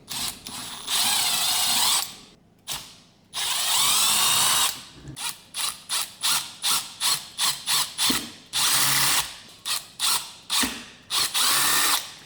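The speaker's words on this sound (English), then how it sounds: "I'm going to drill these out, make them a little bigger" A power drill whirs in long runs, then in quick repeated bursts as the trigger is pulsed, each with a grinding, ratcheting edge, close and loud, enlarging holes for a DIY 12V LiFePO4 battery box.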